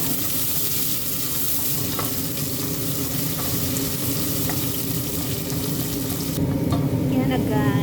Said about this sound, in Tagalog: nagpainit na yun ng mantika para sa ating onion. Ayan. Ito-toasted lang natin yan